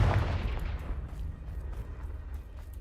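A Confringo fire spell explodes in the Hogwarts Legacy video game, a loud blast that bursts at the start and then rumbles away into a low, lingering roar, with no talk over it.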